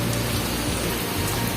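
Heavy rain pours steadily in a dense, loud, unbroken hiss across a town street, with no voices present.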